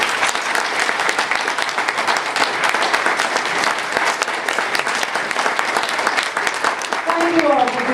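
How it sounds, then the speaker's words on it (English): Audience applause at a fan convention Q&A honoring Robert Jordan, loud dense clapping sustained throughout, with a brief voice rising near the end. "Let's give a round of applause to Harriet"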